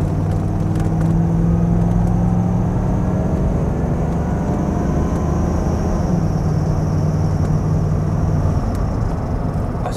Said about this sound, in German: geben wir mal so ein bisschen Gas